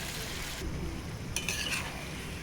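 Marinated chicken goes into hot spiced oil in a pot over a village clay stove, setting off a loud, dense sizzle with a brief metallic clatter of a utensil partway through.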